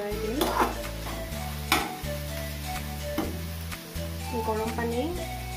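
A spoon stirs Assamese fish curry with banana stem in a pan, scraping repeatedly in an uneven rhythm over a steady sizzle, with occasional clinks against the metal, close and moderately loud.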